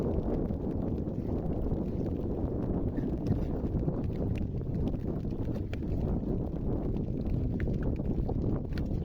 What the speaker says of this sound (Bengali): অবস্থা, বাতাসে ঢেউ, আবার বৃষ্টি